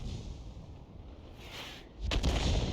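A tank destroyer's big gun firing a shell in a World of Tanks-style battle, a sharp booming report near the end after quieter engine and battlefield ambience.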